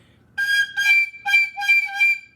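A tin whistle played badly: four short shrill, breathy toots, close and fairly loud, with uneven pitch and small gaps between notes, no talking.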